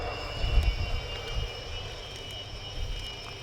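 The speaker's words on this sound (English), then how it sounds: "we move to a slightly more modern generation of fighter and another thunderously noisy" A Ukrainian Air Force Su-27 Flanker fighter jet takes off at an air display, heard as a low, distant engine roar with some gusty swells, fading to a steadier hum.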